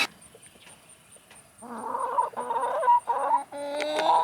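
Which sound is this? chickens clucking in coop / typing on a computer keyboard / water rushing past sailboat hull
chickens clucking in coop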